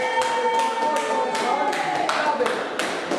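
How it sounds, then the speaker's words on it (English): A handful of people clap sparsely for a boxer at a boxing gym, the irregular claps fairly close over a steady background hum. "we give Jack a round of applause"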